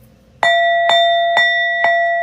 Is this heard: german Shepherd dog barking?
no